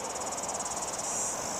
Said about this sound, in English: Mark Dotton, the cicadas are very noisy.